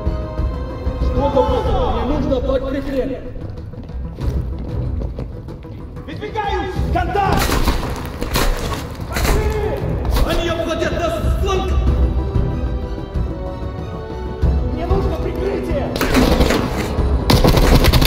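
Call of Duty Black Ops Cold War gunfire, sharp bursts of automatic fire clustering into heavy volleys in the second half, over background music and someone talking in Turkish.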